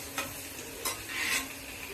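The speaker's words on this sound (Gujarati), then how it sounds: "તેલની અંદર લસણને ફ્રાય કરવાનું" Garlic frying in oil in a wok, a steady broadband sizzle with a few short stirring scrapes, close and fairly quiet, no talking.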